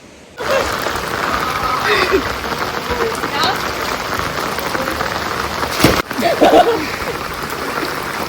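Heavy rain pours steadily over an outdoor pool and hot tub at a countryside rental house near Kyiv, a dense hiss throughout, with a few faint voices and splashes in the background.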